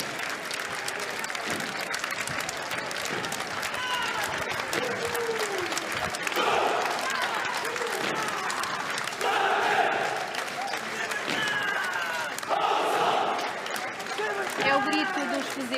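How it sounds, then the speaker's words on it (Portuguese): Marines shout their battle cry while spectators applaud as the unit passes in Portugal's 2022 Day of Portugal military parade; steady crowd clapping and cheering runs throughout, with bursts of shouting voices rising above it. "É o grito dos fuzileiros, a sua passagem também muito aplaudida pelas pessoas que estão a assistir ao desfile militar."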